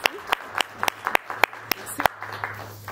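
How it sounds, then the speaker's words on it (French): Sparse audience applause at a conference as a speaker is welcomed: a few distinct hand claps in an irregular, thin rhythm, fairly close, over a low room hum. "sous vos applaudissements, nous allons accueillir Bintou Diallo"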